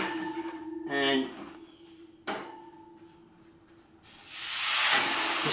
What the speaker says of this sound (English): You want to put a little steam in this oven, and you do that by putting water in it.